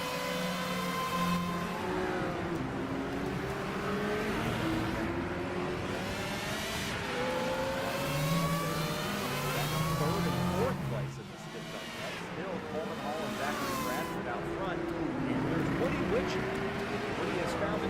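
Nissan GT-R R34 engine in Assetto Corsa revving and pulling through gears, rising whine sweeps with brief dips at shifts, loud and steady under someone talking.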